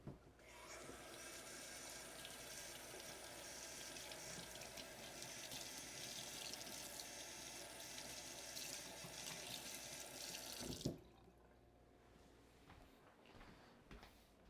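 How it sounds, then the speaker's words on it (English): Steady running tap water splashes over a vegetable being rinsed clean of dirt at a kitchen sink, a continuous broadband rush for about eleven seconds before the water cuts off into quiet room tone. "So we'll rinse this one out."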